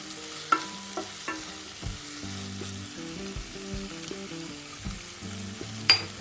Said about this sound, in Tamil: கொடமிளகாய் சேர்த்து 2 நிமிஷம் நல்லா எண்ணெயிலே வதக்கி விட்டுடலாம்.